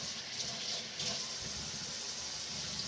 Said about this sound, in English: And we gotta wash my hands.